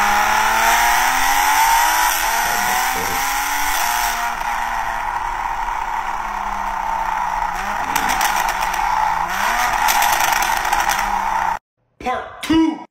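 Human voice imitating a car with an MA Performance exhaust system revving, a loud rising and falling engine drone through several throttle sweeps, ending abruptly with a brief pause and short bursts.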